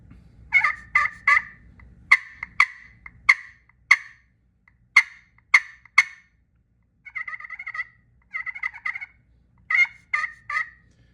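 A Cross Road Game Calls slate pot turkey call is scratched to produce a series of close, sharp yelps and clucks in short bursts, with no talking.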